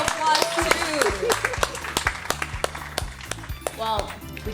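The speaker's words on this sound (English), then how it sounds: "we will give you a round of applause too" A small audience at a foodie quiz show claps for a contestant, with scattered, uneven hand claps that mix with bright electronic game-show chimes and talk in the room.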